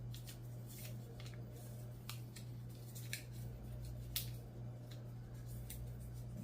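Origami paper being folded back and forth accordion-style makes crisp little crinkles and snapping creases, scattered irregularly over a steady low hum.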